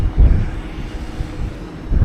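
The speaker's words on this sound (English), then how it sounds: "It's really windy" Strong coastal wind at Whitby buffets the microphone throughout, a loud continuous low rumble that swells into heavier gusts near the start and end.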